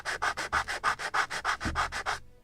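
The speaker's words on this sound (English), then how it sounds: "We'll see in a moment when I will finish sanding if I have to sand more." Rhythmic back-and-forth sanding strokes on a wooden part of a 1776 gunboat Philadelphia model kit, about a dozen even, close strokes before stopping.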